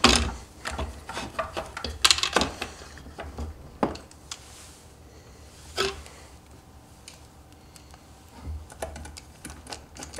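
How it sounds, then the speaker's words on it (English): A screwdriver fastens the screws that mount the control board on a Terrova 12V trolling motor, giving close, irregular clicking and ratcheting taps with short pauses over a faint low background hum. "I'm going to replace the screws that mount the control board and secure in place using those new holes that we drilled"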